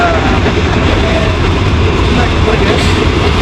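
A train rumbles past close by, a loud continuous roar of wheels and engine with faint rattling, steady for the whole stretch.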